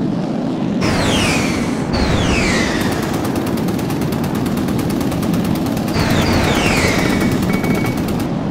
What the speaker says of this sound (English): Taking machine gun damage.